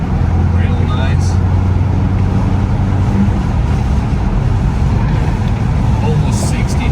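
A 1991 Isuzu Big Horn Irmscher R coupe with a 4JBT turbo diesel engine accelerating on the road, a loud, steady engine drone and road rumble heard from inside the cabin.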